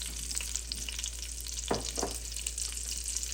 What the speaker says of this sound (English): we're going to go ahead and start sauteing our pearl onions